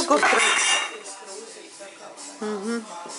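Cups and assorted dishes clink and knock together as they are handled, a brief ceramic rattle at the start fading under women's conversation.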